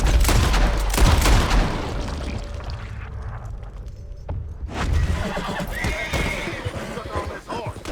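A horse in Red Dead Redemption 2 whinnies loudly, then clip-clops and gallops amid game sound effects and scattered gunfire, with voices talking over parts of it.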